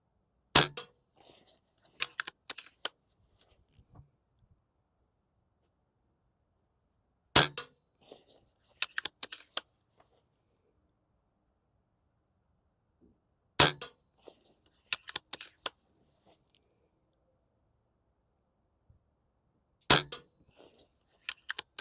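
Brocock BRK Ghost air rifle fired in five sharp, isolated shots at long even intervals, each crack followed by faint pellet-strike ticks, with quiet between and no talk.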